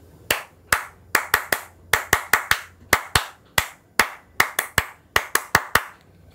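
Sharp, close hand claps, about twenty of them, in an uneven, syncopated pattern of quick bursts and short pauses over a quiet background, with no voices.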